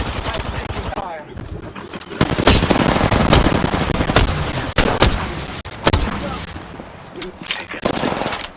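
Gunfire in Apex Legends rings out in repeated loud bursts of rapid automatic shots and single cracks, close and intense throughout, with some talking mixed in.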